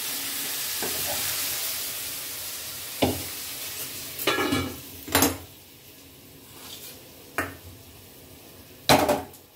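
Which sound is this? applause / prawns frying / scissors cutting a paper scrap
prawns frying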